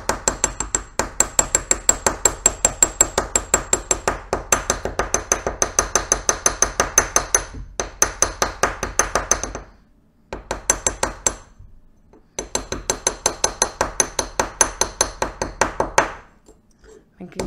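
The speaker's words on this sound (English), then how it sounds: "I'm just kind of going along that edge, hammering all the way up, and I'll go around and down." A ball peen hammer taps rapidly and steadily along the edge of a metal stamped ring blank, producing dense, loud, ringing metallic strikes in long runs with a few brief pauses between passes.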